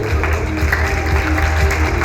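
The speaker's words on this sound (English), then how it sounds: "let's give our speakers and our moderator a round of applause before we go" Conference audience applauding speakers and a moderator at the close of a real-estate session, a steady dense wash of clapping filling the hall without a break.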